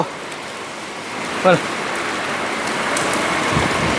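Steady rain falls on a town street, a dense, even hiss that runs without a break at moderate loudness.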